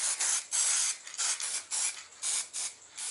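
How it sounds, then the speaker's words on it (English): A nearly empty aerosol can sprayed liberally onto a plasma rifle prop in short repeated bursts, about six loud hissing blasts with brief gaps between them, close and alone without talk. "So what you do is just spray it in liberally."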